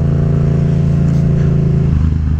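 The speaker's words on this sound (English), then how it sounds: "you just touch the gas a little and it just roars to life" A Yamaha FZ-07 parallel-twin motorcycle engine revs up loud and close, with a steady throaty drone and a quick throttle blip near the end.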